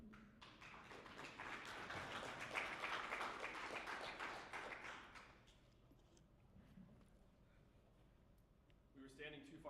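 Audience applause at a marketing summit greets speakers walking on stage, a dense, steady patter of many hands that fades after about five seconds, leaving quiet room tone with a brief voice near the end.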